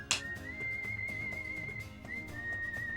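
A whistled tune from Wild Arms 3 carries a sustained clear melody line, a thin steady tone with small pitch slides, over a soft low instrumental backing after a brief sharp click at the start.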